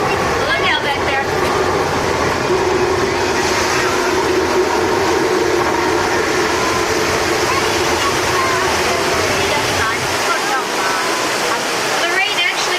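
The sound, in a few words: artificial flash flood water rushing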